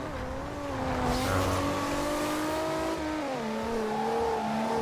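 A car driven in the racing game Forza Horizon 2 with a steady, loud engine drone that climbs through revs, drops at a gear change and rises again, a faint tire hiss underneath, with nobody talking.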